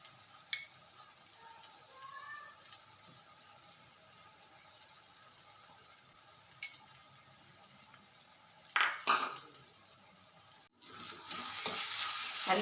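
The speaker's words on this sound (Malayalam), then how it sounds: "നല്ലോണം ഇളക്കി കൊടുത്ത് നല്ലോണം മിക്സാക്കിയിട്ട് പുളിവെള്ളം ഒഴിച്ച് കൊടുക്കാം" Chili powder and turmeric powder being stirred into a restaurant-style Kerala fish curry, a quiet steady scrape and sizzle with a louder burst of clatter near the end.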